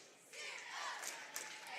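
At a school sports game between the Heyworth Hornets and the Gibson City Falcons, a crowd chants loudly but at a distance, a broad cheering roar that swells after a quiet start and holds steady.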